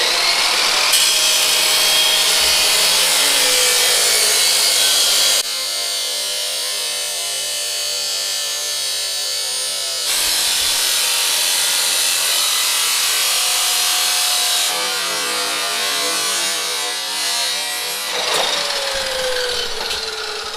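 A power tool grinds and cuts through a car's metal firewall in long, loud, continuous bursts with brief changes in pitch, high and harsh throughout, no voices.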